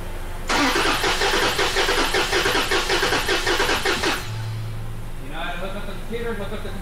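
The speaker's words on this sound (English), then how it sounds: "I'm gonna crank the car" A car with a Toyota 2GR-FKS engine cranks during a compression test with the EFI main fuse pulled, a loud, fast rhythmic starter churn for about four seconds that stops abruptly, followed by a brief low hum and faint whirring.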